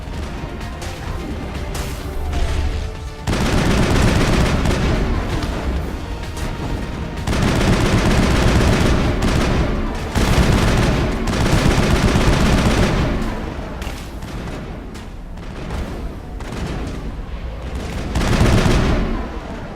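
Gunfire from the video game Mass Effect, with sniper shots among it: dense, loud bursts of automatic fire and sharp reports that go on almost without a break, swelling in several heavy volleys.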